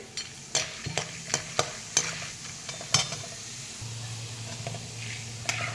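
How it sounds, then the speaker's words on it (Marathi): Lentils frying in oil in a pan over a medium gas flame for onion-green chivda, a low steady sizzle broken by sharp clicks and scrapes of stirring, close and moderately quiet with no talking. "शेंगदाणे काढून झाल्यानंतर आपण हे डाळी पण तळून घेऊया"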